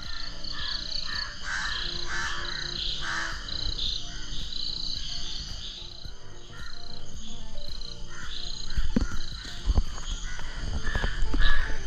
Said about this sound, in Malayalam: രാവിലെ തന്നെ ഇവിടെ ഉള്ള ഒരു കിളികളുടെയൊക്കെ ശബ്ദം ഒന്ന് കേട്ടോളൂ